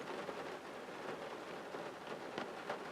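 Steady rain falls in a soft, continuous hiss with faint scattered drops, close and even throughout with no voices.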